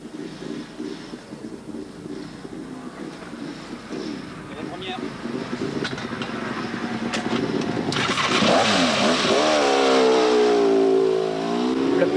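A Grand Prix racing motorcycle engine on the Carole circuit starts and revs up, rising from a low idle to a loud, climbing whine, with people talking over the early part.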